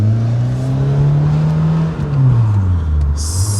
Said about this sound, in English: Feels weird driving this car all over again.